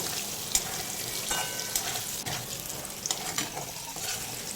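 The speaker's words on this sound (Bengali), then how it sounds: "আলুগুলোকেও দু মিনিট সময় নিয়ে একটু লালচে করে ভেজে নেব" Potatoes fry in hot oil in a pan that was just used for cauliflower, giving a steady close sizzle and crackle with occasional stirring scrapes and pops.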